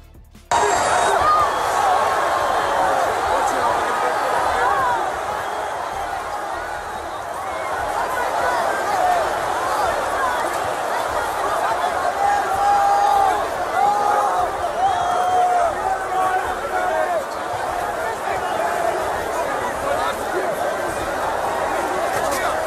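A packed arena crowd at UFC 229 roars in a sustained, wall-like din during the post-fight brawl, swelling and staying loud for over twenty seconds with constant shouting and babble.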